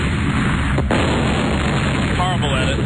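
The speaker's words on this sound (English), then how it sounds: "how about the sounds of multiple explosions?" Radio show sound effect of multiple explosions: dense rumbling booms and bursts rolling continuously for a few seconds, with a sharp break near the start and a faint voice-like warble near the end, loud and close.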